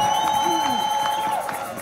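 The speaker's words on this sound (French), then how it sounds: "Est-ce qu'on peut tous célébrer Dieu par des acclamations, des cris de joie?" A church congregation cheering and shouting with joy, a steady crowd roar with high held voices and rising whoops, loud and close throughout, with a voice or two standing out above the mass.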